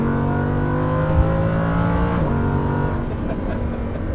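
A purple Lamborghini Huracan LP610-4 with 14,000 miles revs its engine up and back down, a loud, close harmonic exhaust note climbing and falling over a few seconds, with a voice briefly heard.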